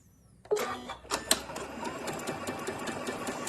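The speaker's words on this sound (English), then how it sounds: "Unlock. And start sewing." A sewing machine stitches a bath tea sachet, starting with a sharp mechanical clack and then running as a close, steady whirring hum of rapid stitching until the end.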